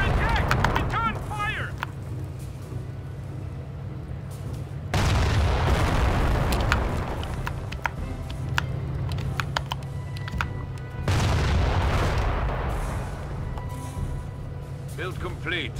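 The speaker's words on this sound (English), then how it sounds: "there's another cannon over there" Heavy booms of cannon fire in the World War II strategy game Company of Heroes: Opposing Fronts, two big blasts several seconds apart, each followed by rumbling decay, with a voice talking throughout.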